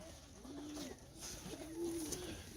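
Young pigeons coo softly in a pen of 34 birds on their first day out, with two or three low, drawn-out coos over a faint background of rustling and ambient noise.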